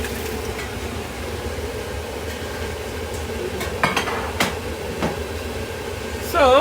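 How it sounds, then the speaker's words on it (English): Vegetable and fresh fish soup stirred in a pot, with soft scraping and clinking against a steady kitchen background, a few sharper knocks near the end, and a brief spoken word. "now you have to be careful to stir this"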